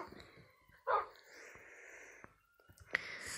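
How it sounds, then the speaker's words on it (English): A dog in Minecraft gives a couple of short, fairly quiet barks or yips, one early and one near the end, with faint talk in the background. "I hope we don't have a light blue colored dog yet"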